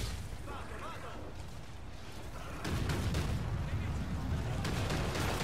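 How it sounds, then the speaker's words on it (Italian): Gunfire and explosions in the Call of Duty: Infinite Warfare video game, dense bursts and booms growing louder partway through, with a player talking over the battle. "Mi stavano sparando."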